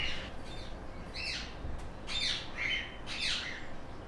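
Birds squawking and chirping in a mini rainforest at Hald Ege, several harsh calls in bursts over steady background hiss, fairly close and moderately loud, no talking.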